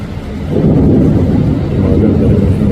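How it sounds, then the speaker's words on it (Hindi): Thunder rolls during heavy rain in Bangalore, a deep low rumble that swells after half a second and holds for the rest of the short moment, with no talk over it. "बादल गरज रहे हैं, बिजली चमक रही है, और बारिश की रफ्तार पकड़ ली है।"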